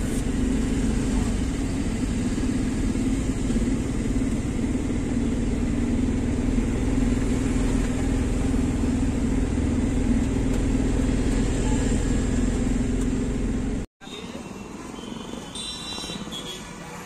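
A loaded goods truck crawls through heavy evening rush-hour traffic, its engine a steady low rumble with road noise throughout, broken by a brief dropout before the hum resumes slightly quieter.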